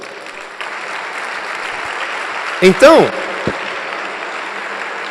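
A church congregation at a pastors' breakfast gathering applauds in a broad, steady wash of clapping, with a voice briefly speaking over it midway.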